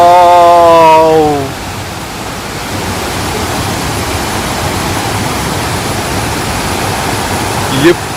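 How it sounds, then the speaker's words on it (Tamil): Athirapally waterfall in Kerala crashing down as a steady, loud broadband roar that continues throughout, with a person talking briefly over it at the start. "இங்கே பாருங்க, அதிரப்பள்ளி ஃபால்ஸ் கீழே விழற ஃபுல் வியூங்க"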